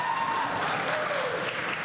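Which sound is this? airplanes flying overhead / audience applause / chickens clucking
audience applause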